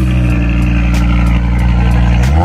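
Volkswagen Golf R engine idling up close, a steady low rumble with a faint periodic ticking, running loud and alone without any talk.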